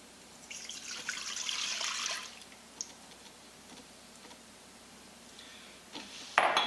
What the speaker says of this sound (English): pour the broth into the Instant Pot